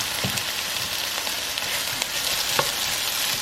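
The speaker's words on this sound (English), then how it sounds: "Get that going, saute it, sizzle." Bell peppers sizzle in a pan while being sautéed for a spaghetti sauce, with a steady, bright frying hiss and occasional stirring clicks, close and fairly loud.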